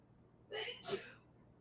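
A person sneezes once indoors, a quick two-part burst, close but not loud, against a quiet background.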